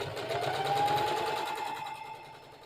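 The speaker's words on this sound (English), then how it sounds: "Okay, so let's go to our sewing machine." A sewing machine stitches a computer cover in a fast, continuous mechanical whir, close and fairly loud, easing off slightly toward the end.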